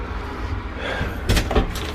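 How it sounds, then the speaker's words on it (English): A cabin bathroom door aboard the cruise ship Oasis of the Seas clunks open with two close knocks of the latch and hinge over a low, steady background rumble. "Bathroom door."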